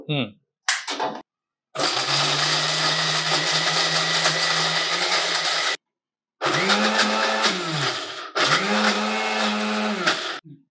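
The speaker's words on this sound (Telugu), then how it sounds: "దీన్ని అన్ని కలిపి దగ్గరగా బ్లెండ్ చేసేసుకోవాల్సి ఉంటుంది మీరు." A mixer grinder blending herbal powder ingredients whirs loudly in several bursts, starting and stopping with short pauses between runs.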